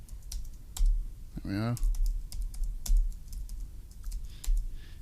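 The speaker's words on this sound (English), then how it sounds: "retype the new password." New password typed on a computer keyboard during home NAS setup, steady close key taps spread across the moment, with a short spoken remark partway through.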